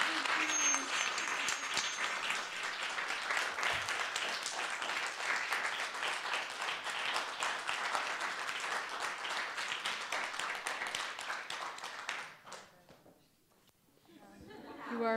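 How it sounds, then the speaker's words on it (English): Loud, sustained audience applause fills the room at the close of an evening scholar panel, holding steady for about twelve seconds before tapering off, with a brief swell of clapping returning at the very end. "Can we get a round of applause?"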